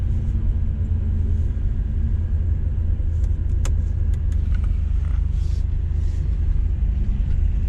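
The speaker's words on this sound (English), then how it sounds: "that's definitely a really high idle" Oldsmobile Cutlass Supreme engine with a freshly rebuilt Rochester carburetor idling high, a steady loud rumbling drone that holds constant throughout with a few faint clicks.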